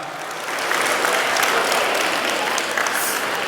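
A graduation audience applauds the graduates' parents, a sustained round of clapping that swells within the first half second and holds steady, moderately loud, with no voice over it.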